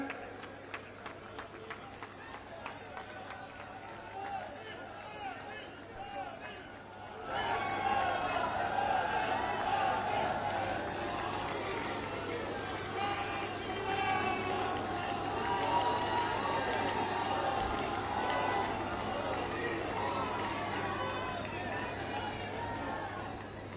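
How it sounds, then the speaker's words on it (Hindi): A large crowd at a political victory celebration at party headquarters applauds and cheers, first under an announcer's amplified voice, then swelling into a louder, sustained wash of clapping and shouts that continues to the end. "आदरणीय प्रधानमंत्री जी और आदरणीय अध्यक्ष जी का मंच पर जोरदार तालियों से हम स्वागत कर रहे हैं"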